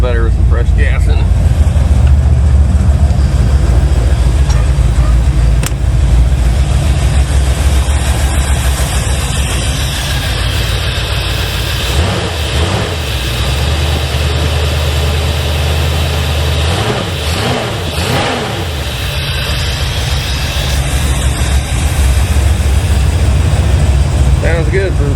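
Big block engine of a 1980 Malibu barn find, running after sitting for years: a steady loud low rumbling idle throughout, with a few uneven surges partway through.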